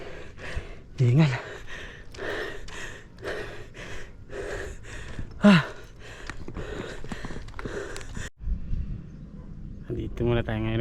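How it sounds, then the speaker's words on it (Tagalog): Heavy breathing and gasping from a person worn out after climbing up to a sky plaza, loud close breaths and puffs recurring in a steady rhythm, with brief noises and a rustle near the end. "Taas ang hingal ko."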